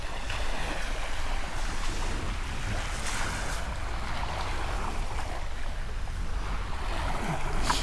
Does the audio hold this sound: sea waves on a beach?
yes